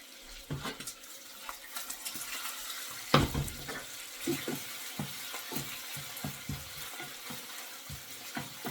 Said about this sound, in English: So bacon is now it's going to get crispy.